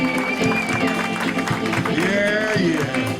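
Audience applause for a guitarist at a live music show at Shaw's, steady crowd clapping and cheering filling the room, with instruments and voices continuing underneath.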